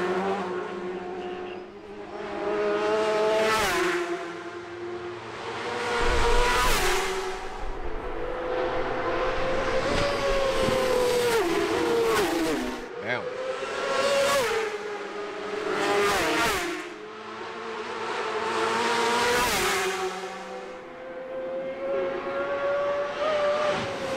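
Isle of Man TT sidecar racing motorcycles tearing past one after another, each engine scream rising loud and then falling away as it passes.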